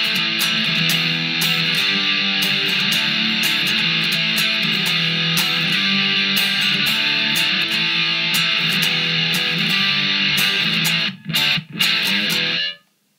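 Distorted electric guitar plays the chorus of a song, a loud, dense and continuous run of chords with sharp picked attacks, ending in a brief stutter and a cutoff near the close.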